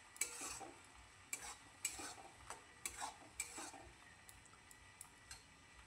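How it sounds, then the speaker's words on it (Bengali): Tomato paste cooks with spices in a pan over medium heat, giving a quiet low sizzle broken by a series of sharp scraping stirs and spoon clinks at irregular intervals. "সেই টমেটো পেস্টটা এখন দিয়ে দিলাম"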